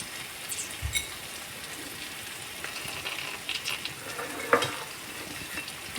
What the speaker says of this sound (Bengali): এগুলো দিয়ে 1 মিনিটের মতো ভেজে নেব।